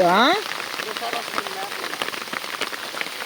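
Steady rain falls on the jungle, a dense wash of close patter and scattered drops throughout, with a brief voice-like tonal sound at the very start.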